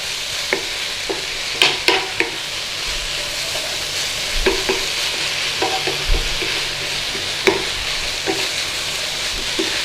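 Leeks with a spoonful of Dijon mustard frying in a pan, a steady close sizzle with occasional scrapes and taps of a utensil stirring, no voices.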